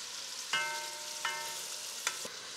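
Meat browning in butter over medium-high heat for a keto curry stew, a steady close sizzle broken by three or four brief clinks or stirs.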